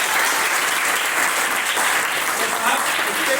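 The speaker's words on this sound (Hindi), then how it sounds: "जबरदस्त ताली होनी चाहिए साहब" A large crowd at a travel-marketing business event bursts into loud, sustained applause, dense clapping filling the whole stretch, with voices faintly mixed in.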